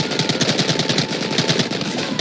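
Rapid, dense gunfire fills a Red Dead Redemption shootout, a steady machine-gun-like rattle of shots running unbroken and loud throughout with no voices.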